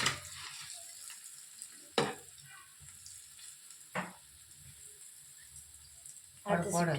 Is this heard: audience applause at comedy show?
no